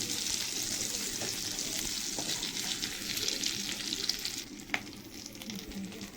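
Prawns fry in a pan with hot oil, giving a steady, close, bright sizzle throughout, with a few light clicks of stirring and no talk.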